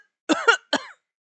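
A woman coughs in a short burst of three harsh, close coughs, two quick ones and then a third after a brief pause, with no other sound around them.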